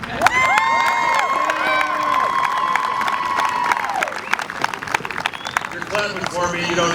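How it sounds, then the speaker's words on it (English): A crowd at an outdoor park ribbon-cutting ceremony claps and cheers, with loud whoops and shouting voices over the applause that fade out toward the end. "You're clapping for me, you don't even know me."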